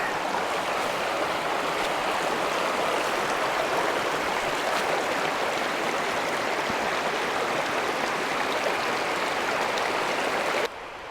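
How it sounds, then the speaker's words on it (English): A pretty creek near sulphur springs rushes in a steady broadband wash, continuous and fairly full, cutting off abruptly near the end. "The pretty creek."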